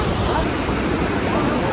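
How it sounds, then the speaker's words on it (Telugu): A small mountain river near Kasol in the Himalayas rushes nearby beside a wooden footbridge, giving a dense, steady broadband roar of flowing water with no distinct voices. "ఈ చిన్న నది, ఇది చిన్న చిన్న నదులు పెద్ద పెద్ద నదులు అవుతాయి."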